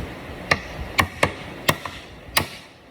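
Sharp metal-on-metal hammer blows drive a cutting knife into spot welds on car body panels, five or six distinct strikes spaced irregularly, fairly close and loud with no talking.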